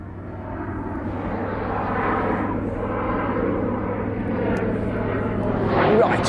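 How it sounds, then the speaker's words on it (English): An F-15 fighter jet on its ILS approach to RAF Mildenhall makes a steady, moderately loud roar that builds slightly toward the end, heard from a distance with faint talk in the background. "on the ILS we've got an F-15 as well"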